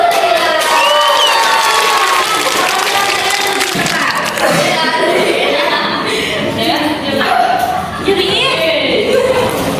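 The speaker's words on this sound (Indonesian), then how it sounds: "Kasih aplaus." Students in a high school classroom break into applause and cheering, loud clapping with whoops and laughter while voices talk over the crowd noise.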